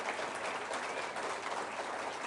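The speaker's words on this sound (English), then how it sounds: "You can clap for that." Applause from a political party conference audience for a Reform UK speaker in the East Midlands, a soft, distant, even roll of many hands clapping, steady for a couple of seconds.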